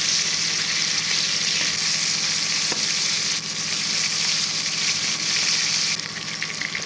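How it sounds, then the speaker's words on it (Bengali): Chicken pieces sizzle in hot oil while being turned over in the pan. The frying makes a loud, continuous crackle from close by, with a few light stirring knocks and no talking. "মাংসগুলো ভাজা হালকা হয়ে গেলে উল্টে পাল্টে দিচ্ছে"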